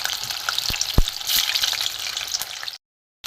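Pieces of salted flour dough frying in hot oil, a bright continuous bubbling sizzle with a couple of sharp knocks, close by, cutting off suddenly near the end.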